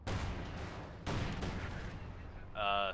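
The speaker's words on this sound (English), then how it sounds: "the Stugs are just shooting as much as they can" StuG assault guns firing in the Company of Heroes 2 strategy game, two heavy booming shots with rumbling decay amid battle noise, ending in a brief tonal game sound.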